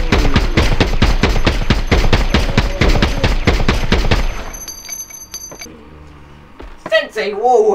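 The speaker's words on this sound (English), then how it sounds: "Sensei Wu has a gun" Rapid, loud bursts of gunfire, about a dozen sharp shots in quick rhythm, then a quieter stretch with brief clatter and a short vocal outburst at the end.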